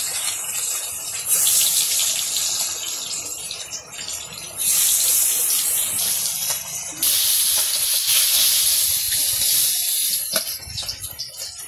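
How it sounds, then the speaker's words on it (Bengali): Large fish pieces rubbed with turmeric and chili fry in fish oil, village style, giving loud close hissing sizzle that surges in strong waves and eases between them. "মাছের তেল দিয়ে মাছ ভাজা"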